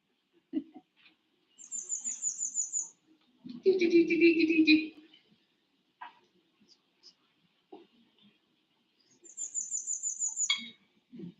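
High, thin buzzy Cape May warbler song in its faster two-syllable version, two quick phrases separated by a pause, with someone talking briefly in between.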